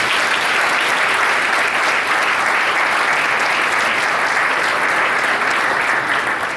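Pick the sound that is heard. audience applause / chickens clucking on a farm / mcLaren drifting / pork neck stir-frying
audience applause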